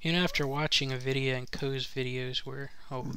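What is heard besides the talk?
No everyday noise stands out behind the speech.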